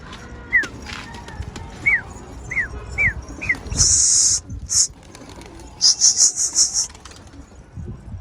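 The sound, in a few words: wild bird and its chicks flying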